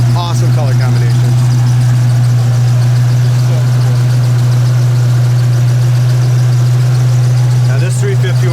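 A 1972 Cougar's 351 Cleveland V8 with a 2-barrel carburetor idles steadily and close, a strong low hum holding for the whole stretch, with someone talking over it near the end.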